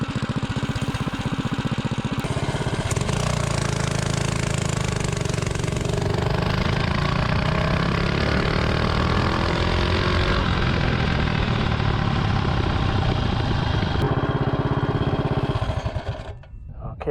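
A mini bike with a 212 Ghost engine on 87 octane accelerates hard from 0 to 30 mph, its small single-cylinder engine revving up loud and raspy close by, then cutting off abruptly at the end.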